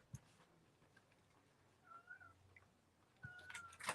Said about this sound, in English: And that's my cat you can hear outside the door.